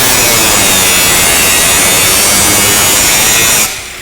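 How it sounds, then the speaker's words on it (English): A handheld HDII power tool cutting or grinding aluminum, producing a loud, continuous abrasive whine that runs steadily before dropping away abruptly near the end. "Now your Hdii can also be used for cutting and grinding on aluminum."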